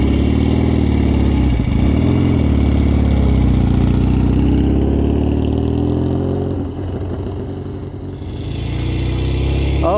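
Motorcycle engine running at idle, a loud, close, steady low rumble that dips briefly before settling back to a constant drone, with no talking.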